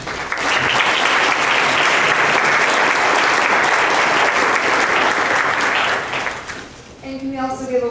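An audience at a university faculty panel discussion bursts into loud, sustained applause welcoming the panel, clapping steadily for about six seconds before fading as a voice begins speaking.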